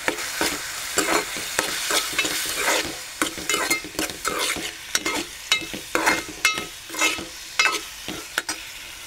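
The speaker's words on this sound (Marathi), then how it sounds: "थोडासा मसाला ॲड करू त्याच्यात. चांगलं ढवळून घेऊया." Masala being stirred into a karvand pickle mixture, a steady series of scraping, clacking spoon strokes against the pot with faint sizzling underneath, close and fairly loud, no voices.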